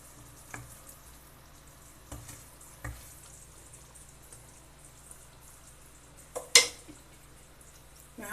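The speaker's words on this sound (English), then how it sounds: "In the low flame, we have to cook 5 minutes more." Paneer butter masala with cream simmering in a pan over a low flame, a faint steady background with a few soft stirring clinks and scrapes and one brief sharper knock.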